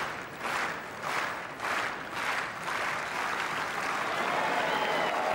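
Tennis crowd applauding at the 2012 ATP Qatar Open: sustained applause from a large audience, loud and steady, swelling in waves at first and then holding evenly.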